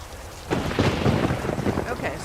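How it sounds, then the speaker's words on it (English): A thunderstorm with steady rain sets in abruptly after a quiet start, a dense rumble of thunder and pattering rain sustained and loud throughout, with no talking. "I like the thunderstorm sounds."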